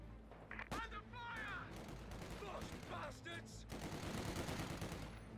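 Rapid bursts of MG42 machine-gun fire rattle through a Company of Heroes 2 battle, with a voice talking over several clusters of sharp shots and a sustained stretch of dense firing near the end.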